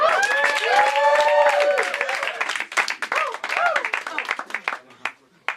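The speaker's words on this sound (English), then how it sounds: "Keep clapping, keep clapping." Audience applause and clapping at a SermonSlam spoken-word sermon event in Jerusalem, a dense, loud burst of clapping with cheers and voices layered on top, thinning toward the end into scattered claps.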